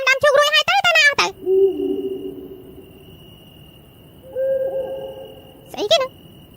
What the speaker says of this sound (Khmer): តាមពិតសត្វទីទុយ